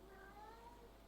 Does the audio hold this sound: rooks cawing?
no